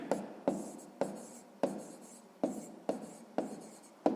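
Handwriting with a pen on paper while solving a 6th-grade maths problem, roughly nine quick scratchy strokes in a steady rhythm, close up and with no voices.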